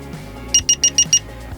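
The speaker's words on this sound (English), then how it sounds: "it will beep rapidly a few times, and that will let us know it's all set" The keyless entry module installed in a Jeep Cherokee XJ beeps five times in quick, evenly spaced succession, sharp electronic chirps over a low background hum.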